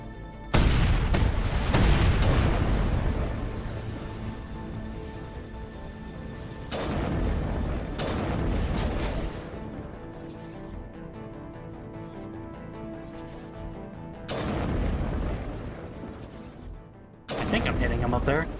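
Sniper rifle fire in Mass Effect Legendary Edition combat: several heavy, booming shots spaced seconds apart, each with a long decaying tail, over steady game ambience and some talk.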